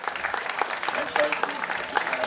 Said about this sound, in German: So, Applaus für den Herrn Rodenkirsch.